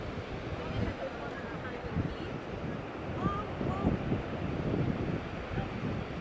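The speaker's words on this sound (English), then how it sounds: "The waves are really coming in." Ocean waves roll onto a windy beach at Lido Beach in Sarasota, Florida, a constant low surf wash mixed with wind rumble on the microphone, with faint voices mixed in.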